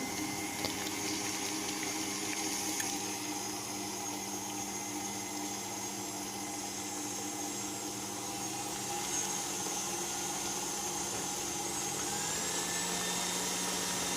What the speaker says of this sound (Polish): Na początek włączam robot na najniższe obroty i stopniowo zwiększam je